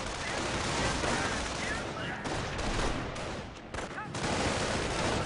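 Gunfire in a World War II video game battle, with rapid rifle and machine-gun bursts mixed with sharp sniper shots, dense and continuous at moderate loudness with no one talking.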